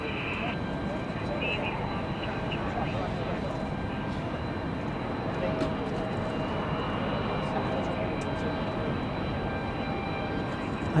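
American Airlines Boeing 787 Dreamliner jet at an airport, a steady broadband engine roar held throughout with a faint tonal whine, radio chatter audible beneath.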